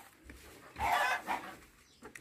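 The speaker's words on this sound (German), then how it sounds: "Ihr Hühner!" Chickens cluck in a yard, a faint burst of clucking and squawking rising in the middle, with quieter scattered clucks before and after.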